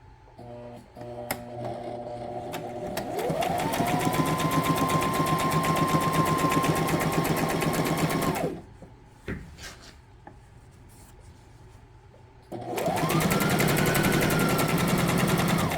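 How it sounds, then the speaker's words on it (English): A sewing machine stitches along a trouser edge in two steady, loud runs, the first ramping up to speed and running several seconds, then a quiet gap with light handling noises before stitching resumes. "So first I am going to stitch on the edge and I will leave this much space without stitching."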